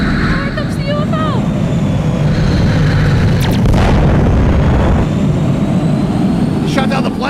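A plane shot down in a video game produces a loud, booming explosion that bursts over a steady rumbling engine drone, with a few chirpy electronic tones before and after.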